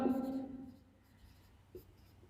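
A teacher writes a rule on a classroom board during a physics lesson, producing a quiet scratching of chalk or marker after a brief voiced sound at the start.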